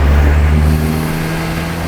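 A compound-turbo 4JB1 diesel in a Holden Rodeo pulls hard at full throttle in fourth gear, a loud, close, steady engine drone with a rising whir, heard alone.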